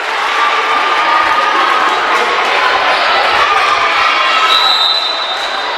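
A crowd at a college volleyball match between Eureka College and Dominican cheers loudly and steadily in a gym, a dense roar of voices across the whole stretch.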